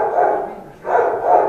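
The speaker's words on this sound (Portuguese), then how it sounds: "Tem um cachorro rosnando ali aí?" A dog sounds off close by in two long, strained bursts separated by a short pause, somewhere between a muffled bark and a growl, loud and alone.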